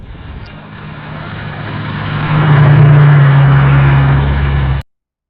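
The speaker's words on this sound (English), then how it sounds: "That's a car passing by." AI-generated sound effect of a car passing by: an engine rumble builds from a low hum to a loud roaring peak, sustains, then cuts off abruptly at the end.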